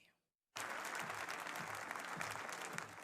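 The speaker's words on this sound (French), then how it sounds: "Sous vos applaudissements, s'il vous plaît." Audience applause at a science and technology award ceremony bursts in after a brief silence and continues as a loud, dense, steady clatter of many hands.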